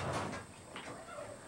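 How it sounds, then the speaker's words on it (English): A drawer slides open with a short scraping rumble followed by a second softer slide, close by in a quiet indoor room. "So would you open the drawer and give me a piece of paper?"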